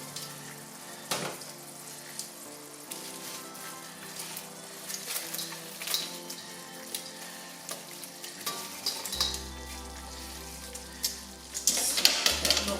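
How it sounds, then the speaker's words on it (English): Prawns sizzling and frying in a honey garlic sauce in a pan, a steady crackling hiss with occasional stirring clatter, close and fairly quiet, with a deeper rumble joining late. "we will start adding our prawns back into the sauce"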